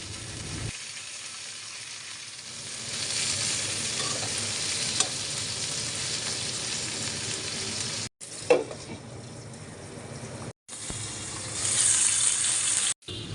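Chepa shutki paturi wrapped in bottle gourd leaves frying in a pan, a steady close sizzle with occasional stirring scrapes, briefly cut by short gaps and rising again near the end.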